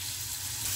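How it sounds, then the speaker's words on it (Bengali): Potato rice sizzles and fries in a pan over a high flame while being stirred, giving a brief, steady, close hiss. "ভালো করে নেড়ে দিই,"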